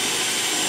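Power drill whirs steadily in reverse while starting a pilot hole for mounting a Power-Pole anchor pump, a loud, continuous motor drone heard close and alone.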